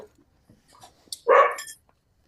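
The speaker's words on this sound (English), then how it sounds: "He's a good dog." A dog gives one loud, close bark, with a few faint yips and small noises around it in an otherwise quiet indoor space.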